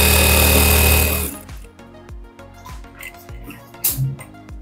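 A sewing machine stitches a katori blouse, starting with a loud, fast continuous run that then breaks into slower, separate mechanical thumps and clicks, close by.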